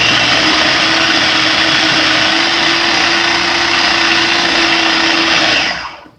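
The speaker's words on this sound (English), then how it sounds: "I cut my banana up before I put it in the blender" A blender whirs loudly and continuously for several seconds, chopping banana pieces, then spins down and stops.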